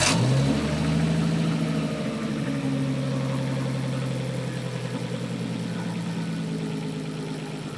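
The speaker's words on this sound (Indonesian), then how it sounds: "Nah, ini mesinnya langsung hidup," A car engine fitted with a Haltech Elite 2500T ECU catches after a brief crank and settles straight into a steady, close idle. The low rumble holds evenly throughout with no talking over it.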